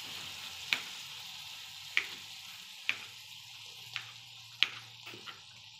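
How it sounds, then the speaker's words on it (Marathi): Cooked chickpeas and potato are stirred in a hot frying pan, with a soft sizzle underneath and five sharp scraping clacks of the spoon against the pan at roughly one-second intervals. "आता ते शिजवलेले आपण चणे त्यावर टाकून चांगलं हलवून घेऊया।"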